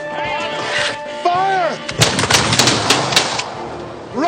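A musket volley from ranks of soldiers on a battlefield, with loud, sharp overlapping bangs crowding together after shouted commands and brass notes, then cracking on through the rest, close and heavy.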